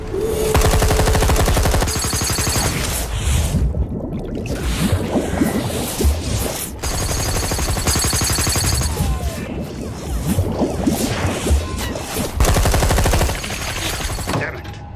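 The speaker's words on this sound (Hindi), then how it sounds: "फायर करो उधर पानी में" Bursts of gunfire fired into the water from a boat during a night standoff at sea in an action film scene, loud rapid volleys repeating across the whole stretch over a busy mix of engine, water and score.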